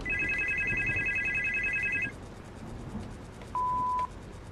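Telephone ringing in the horror video game Supernormal: a bright electronic ring tone repeats steadily for about two seconds, then stops, followed later by a single short steady beep against a low background hum.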